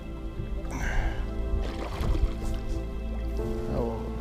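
Oars splash and dip in lake water at a steady rowing pace from a rowboat through weeds, with gurgling and dripping between strokes over a low background hum.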